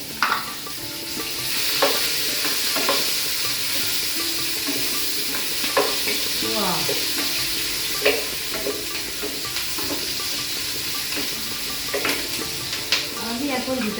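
Onion fries with cumin seeds in a pan, giving a steady bright sizzle throughout with occasional stirring scrapes and small clinks, close and fairly loud with no talking.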